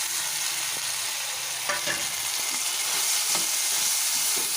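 Raw mango and other mango rice ingredients sizzle and fry in a pan with a loud, steady crackling hiss. Occasional soft knocks of stirring break in, and no one talks.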